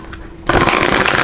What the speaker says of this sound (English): just shuffle these up